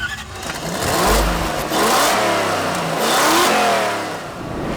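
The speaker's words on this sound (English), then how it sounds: "today we are finally out in my 1UZ swapped 89 Toyota pickup" A 1UZ V8 swapped into a 1989 Toyota pickup revs hard and close, the engine climbing and falling through several throaty pulls with a deep rumbling exhaust note and no talking.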